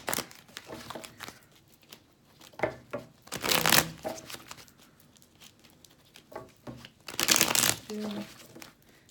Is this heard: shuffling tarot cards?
yes